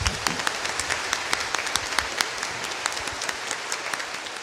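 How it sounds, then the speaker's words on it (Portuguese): A congregation gives sustained applause with dense, overlapping clapping and a few sharper claps standing out. The ceremony installs a new parish administrator in a church. "saudemos com uma salva de palmas"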